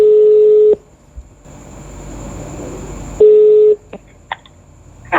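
Telephone keypad DTMF tones as a number is dialed, two long steady tones separated by a pause, with a few short beeps near the end, loud and alone with no talk.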